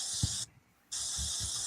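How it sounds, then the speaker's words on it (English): Two bursts of aerosol cooking spray misted onto a half pan for cinnamon rolls, a steady close hiss that cuts out briefly in between, with soft low bumps underneath. "So she's going to spray it with Pam, or avocado oil."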